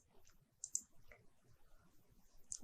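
Two to three sharp, quiet mouse clicks on a computer while selecting the OK button in structural design software, spaced apart over a faint background.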